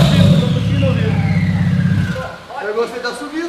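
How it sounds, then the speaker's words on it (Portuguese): Ferrari 458 engine roaring close by, a loud sustained low rumble with rising revs for about two seconds, then fading as people talk. "o ronco do motor"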